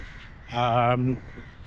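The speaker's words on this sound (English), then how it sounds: "House crows were introduced to Durban, so they're not native to South Africa." House crows calling in Durban, South Africa: a single harsh, nasal caw of about half a second, fairly close and clear above a low background murmur.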